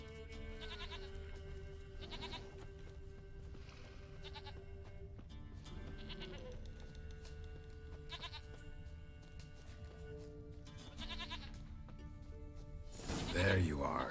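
A goat bleats several times in The Witcher 3 video game, with wavering cries repeated at intervals over a steady low ambient hum, and a louder burst of noise near the end.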